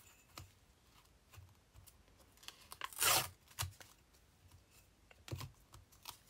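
Old book pages are torn by hand in short, dry ripping bursts, one louder longer tear in the middle, close and fairly quiet with small papery rustles between.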